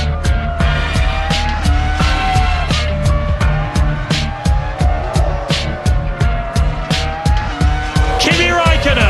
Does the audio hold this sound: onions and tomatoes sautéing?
no